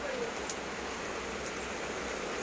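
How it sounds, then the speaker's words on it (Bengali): Heavy rain pours down outdoors in a steady, even hiss. It is moderately faint and unbroken, with no voices over it. "বৃষ্টি হচ্ছে"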